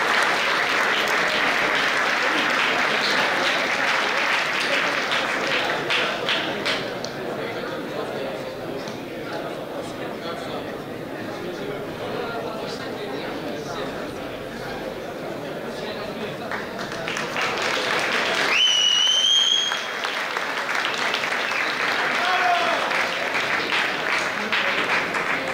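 Sustained applause from an audience at a university campus festival award gala, loud and continuous for most of the stretch, with a speaking voice partly heard over it.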